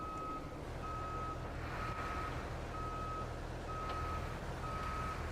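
A truck in a driving video game backs up to park, its reversing alarm sounding six evenly spaced beeps over a low engine hum and rumble, with no talking.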